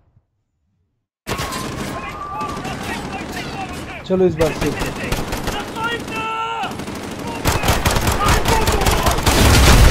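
Rapid bursts of automatic gunfire in a shooter video game, loud sharp cracks in quick succession that start after a moment of silence and grow denser toward the end, with a voice speaking over them.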